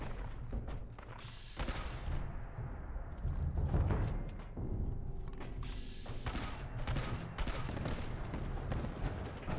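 Cannonball gunfire in the video game Fallout 76, a string of loud, irregular thumping shots and bursts that go on nearly throughout, with a short quieter gap partway through.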